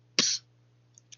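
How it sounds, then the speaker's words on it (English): A single short, sharp cough bursts out close by, followed by two faint little clicks or throat sounds in an otherwise quiet room with low hum. "I have aggravated my cough by talking so much and so loudly"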